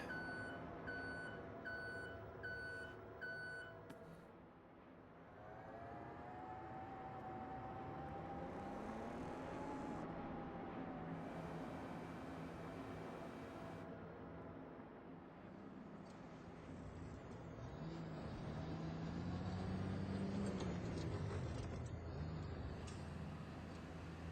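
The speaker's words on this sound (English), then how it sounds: "I have to say the traffic sounds on this map are pretty awesome." Farming Simulator 25 traffic on the Saxlingham map: reversing beeps sound at first, then passing cars and trucks hum and swell in a steady, fairly faint background wash with no talk.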